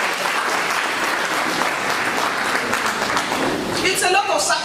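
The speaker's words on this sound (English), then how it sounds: "Please, a round of applause for each and every one of them." Sustained crowd applause fills a hall at a Nigerian Army social media seminar in Gusau, steady and dense throughout, with a brief voice or tonal sound rising near the end.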